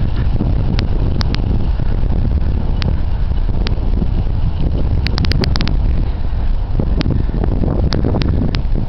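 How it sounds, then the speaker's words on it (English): Strong wind buffets the microphone on a bike trip along an old rail line, a loud, steady rumbling roar that never lets up, with faint clicks scattered through it and no voices. "This wind is terrible."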